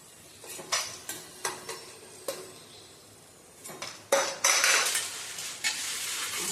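A series of sharp metal clinks and scrapes of a utensil in a pan, followed by a burst of bubbling, hissing oil as mango-seed mouth-freshener mixture deep-fries and puffs up.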